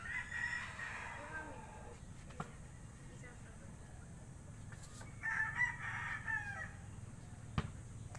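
A rooster crows twice at a distance, the calls separated by a few seconds of quiet outdoor ambience with faint background noise.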